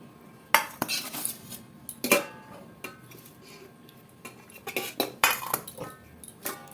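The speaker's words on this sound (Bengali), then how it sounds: "আজকে সকালবেলা এই দেখো পাট শাক আর কুমড়ি শাক দিয়ে ভাজা করছি।" Jute and pumpkin greens are stir-fried in a pan for breakfast, with a metal utensil giving sharp, scattered clanks and scrapes against the pan between quieter pauses.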